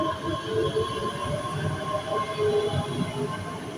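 A ScotRail Class 385 electric train rumbles and hums as it pulls away from Stirling station, a steady low drone with rising motor whine and faint wheel clatter.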